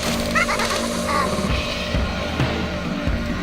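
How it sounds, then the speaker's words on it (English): A squawking bird from the Umineko visual novel game gives a few short, raspy calls over a dense, steady bed of game sound. "That bird is saying key."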